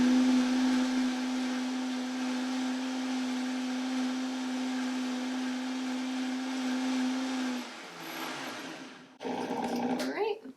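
A blender motor whirs steadily at a constant pitch for several seconds mixing gluten-free Dutch baby pancake batter, then winds down and stops, followed by a brief clatter.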